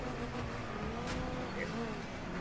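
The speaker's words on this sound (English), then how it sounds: "it's all I hear is racing engines" Racing car engines from the Rocket League video game on PS4, a continuous loud engine drone running steadily throughout, with a brief whoosh near the middle and a faint voice underneath.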